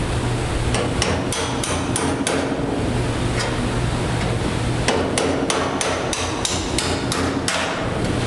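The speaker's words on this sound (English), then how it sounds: "Take your hammer and a seam buster, just get in there." Repeated sharp metal strikes from a hammer and seam buster in uneven bursts, ringing close and loud against the quarter panel of a 1968 Pontiac Firebird, with no talking.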